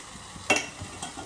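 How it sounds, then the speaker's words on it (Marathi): Vegetable tempering sizzles and spits in hot oil in a kadhai, with a sharp burst of frying followed by softer stirring scrapes and crackle, close up and without voices. "चला आता मी भाजी फोडणी देऊन घेते"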